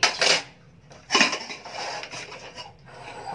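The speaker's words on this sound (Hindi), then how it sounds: "और ये मैंने अपना कुकर खोल लिया है" A pressure cooker of khichdi opened after cooking, with sharp metallic clanks and scraping of the lid at close range, two strong hits and softer rattles after, no talk.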